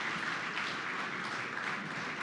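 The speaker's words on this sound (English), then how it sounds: "I actually want to give another round of applause if you guys can join us and just clapping for everyone as they come on stage here" An audience at a demo day showcase and competition claps as people come on stage, a faint, steady patter of applause heard from a distance.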